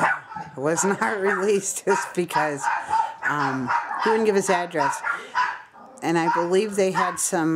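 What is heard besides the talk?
dogs barking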